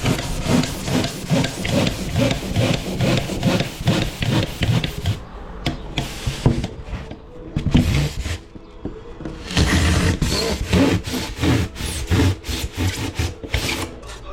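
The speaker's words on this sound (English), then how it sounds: "And I'll saw down that line up to that point." A handsaw cuts down a marked line in a piece of wood for a garden building project. Close, loud rasping strokes come in a fast steady rhythm, pause briefly with a few knocks, then resume.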